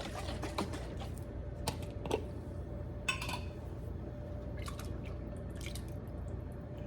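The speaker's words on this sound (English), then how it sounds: "fill up about halfway full the jar of marinara sauce, put the lid on, shake it, and then pour that in" Water is sloshed around inside a marinara sauce jar and poured into a pot of soup, giving a few sharp glassy knocks and clinks over a quiet wet background.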